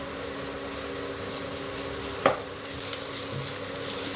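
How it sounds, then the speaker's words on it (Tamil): Ginger garlic paste sautés over low heat in a pressure cooker for chicken biryani, giving a soft, steady sizzle with a spoon stirring and one brief metallic clink partway through and no talk. "இஞ்சி பூண்டு பேஸ்ட் போட்டு கிளறும் போது சிம்மில் வச்சு கிளறினீங்கன்னா இது நல்லா வதங்கும்."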